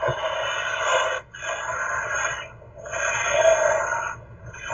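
A Doctor Who TARDIS toy's materialisation sound effect: a wheezing, grinding tone that swells and fades in repeated pulses, played close and without talk.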